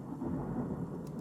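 Thunder sample from a music track, a low continuous rumble that rolls steadily throughout, loud and close, with a faint hiss near the end and no talk.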